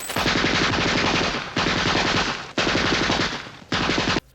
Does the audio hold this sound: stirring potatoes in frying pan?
no